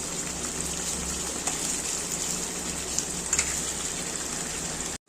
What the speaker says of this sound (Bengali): মশলাটা যখন এরকম হয়ে আসবে একটু কষানো তখন হচ্ছে অল্প জল দিয়ে দিতে হবে